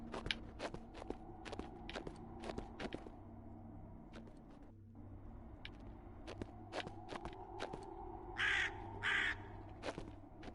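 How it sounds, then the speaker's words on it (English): A crow caws in the video game Kings of Lorn, two distinct harsh calls near the end over quiet footsteps and sparse ambient game sounds, with no speech. "Somehow there's a crow down here. I haven't seen one, but I feel like I keep hearing one."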